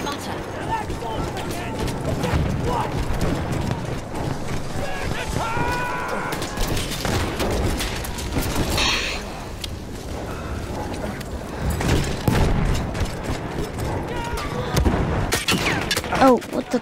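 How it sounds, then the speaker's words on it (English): Mortar shells and explosions in a Battlefield 1 match, booming blasts and gunfire crashing repeatedly throughout amid dense battle noise, with a player's voice talking over the chaos. "now I can clearly see they're mortaring us"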